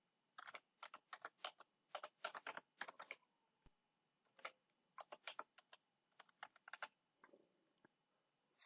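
Fingers type a name on a computer keyboard in quick, soft, close clicking bursts with brief pauses, quiet throughout with no talking.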